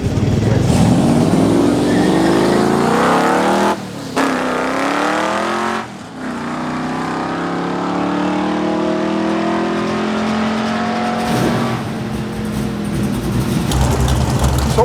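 A truck engine revs hard through a drag run at a night race, loud and close, its pitch climbing in long sweeps broken by brief dips at gear shifts, with faint crowd voices beneath.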